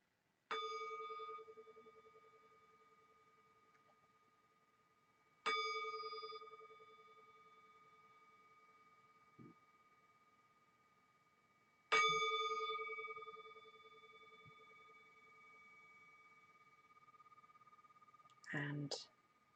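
A meditation bell is struck three times at long, even intervals, each strike ringing out clearly and fading slowly in a quiet room, followed at the end by a brief, softer double strike.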